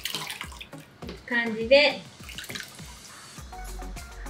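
Warm tap water splashes and trickles as foam is rinsed from a face with cupped hands, in uneven bursts of splashing under a person's steady talk.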